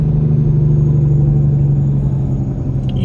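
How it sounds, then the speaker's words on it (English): A steady low rumble of idling cars stuck in a traffic jam, continuous and fairly loud throughout with no talk. "Oh, we can already have a traffic jam."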